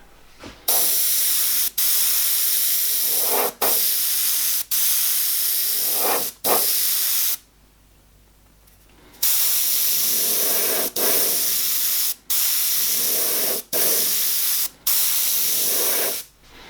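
An airbrush sprays a fine paint mist in repeated bursts of steady hiss, each roughly a second or two long, with short breaks between and one longer pause midway; close, fairly loud, no talking.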